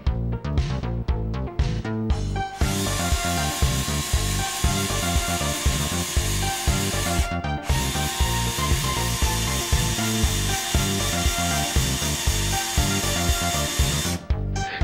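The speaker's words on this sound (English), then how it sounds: "Start drilling and make sure you drill the appropriate depth to adequately seat the quick detach socket." A power drill bores steadily into a wooden Ruger 10/22 rifle buttstock, its motor whining continuously for most of the stretch, with a few brief stops and restarts.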